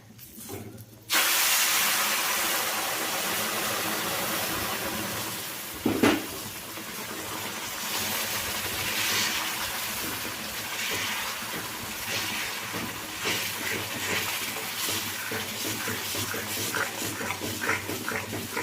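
Hot water poured into roasted wheat flour halwa, Gujarati style, sets off a loud, steady steam hiss that carries on for many seconds, with a brief sharper burst partway through.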